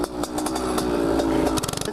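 A minibike engine on a public road buzzes close by with a steady, rasping drone, revving up and down with small throttle blips near the end.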